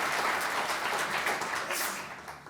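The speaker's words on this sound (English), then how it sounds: "Another hand of applause, ladies and gentlemen." An audience applauds, many hands clapping together in a dense patter that gradually fades toward the end.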